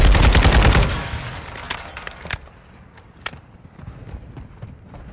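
Shotgun fire in a Call of Duty match: a dense burst of loud blasts up front, then scattered sharper shots and clatter trailing off at lower level.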